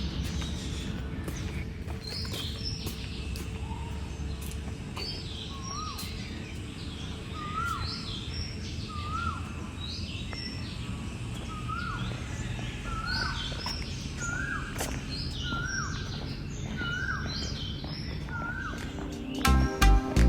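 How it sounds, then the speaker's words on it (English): Birds sing in a Thai jungle canopy camp, repeated short chirping calls rising over a steady hum of insects and distant ambience, with a few knocks near the end. "The songs of the birds were the only things that broke the zen-like silence"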